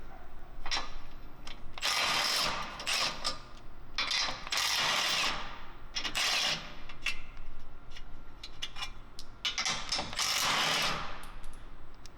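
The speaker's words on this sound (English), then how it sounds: "Using a 14mm socket, undo the 6 nuts holding on the aluminum crash beam" A 14mm socket on a ratchet clicks in repeated bursts of quick pawl ratcheting, undoing the six nuts that hold an aluminum crash beam on a Toyota Tacoma. The bursts are close, separated by brief pauses, and no one speaks.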